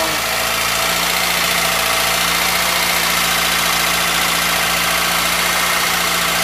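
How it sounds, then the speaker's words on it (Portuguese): Car engine idling with a deep, low rumble, steady and close, with a faint mechanical vibration layered over it and no break in the sound. "Som bem grave do motor."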